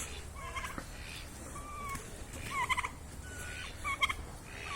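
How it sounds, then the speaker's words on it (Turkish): A turkey gobbles in several bursts of rapid, warbling calls, fairly close, with quiet background between them and no speech. "Yılbaşı geçti diye hindi şu anda böbürleniyor."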